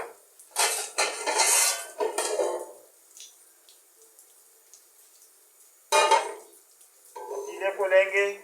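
A metal cooking pot is handled in a home kitchen while kaleji masala is prepared, giving bursts of clanking and clattering, then a quiet gap and another round of metallic knocks close by.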